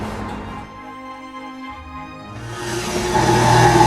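An electric mixer beats an egg into butter cake batter with a steady motor whine that changes pitch and grows louder and harsher toward the end as the beaters churn, close and alone.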